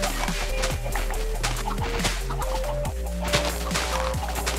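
Chickens in the video game Minecraft clucking in short repeated bursts over steady background music, fairly close and clear.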